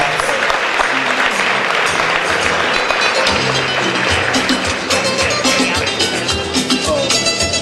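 Gala audience applause for the New York City Comptroller at a Radio Soleil anniversary celebration, a loud, sustained roar of many hands clapping, with some crowd voices mixed in throughout.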